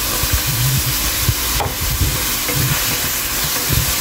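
Onion, garlic and green chili frying in a pan for a potato greens stir-fry, a steady close sizzle and hiss with a few low clinks of stirring, no talk.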